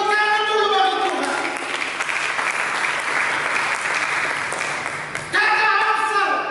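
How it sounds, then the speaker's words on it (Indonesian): Congregation applauding in a church service, a broad steady wash of clapping lasting several seconds, with singing or talk tones present at the start and returning loudly near the end. "Berikan tepuk tangan dulu bagi Tuhan"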